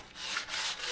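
Hand sanding on the body of a 1949 GMC roadster before paint makes rhythmic, close, raspy back-and-forth strokes, about three passes in a second.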